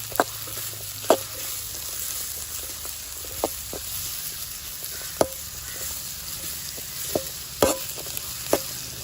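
Onions sautéing in a pan while cooking a Kerala-style fish dish, a steady sizzle with several sharp clinks of a spoon stirring against the metal, close and alone with no talk.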